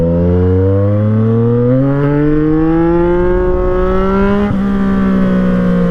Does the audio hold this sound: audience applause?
no